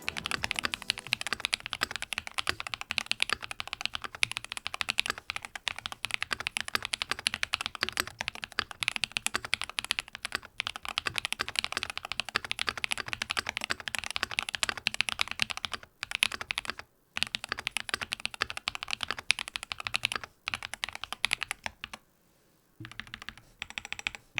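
Rapid, continuous clacking of a mechanical keyboard being typed on up close, loud and steady, with a few brief pauses near the end.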